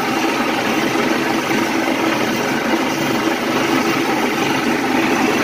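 A DIY electric boat motor runs continuously on the water, a steady loud whirring drone with a broad noisy texture and no pauses or talking.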